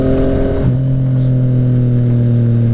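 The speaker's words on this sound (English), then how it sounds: "We are riding the FZ09" Yamaha FZ-09 2014 motorcycle engine while riding, a steady loud droning hum with a pitch shift partway through as the revs change, heard close with wind noise.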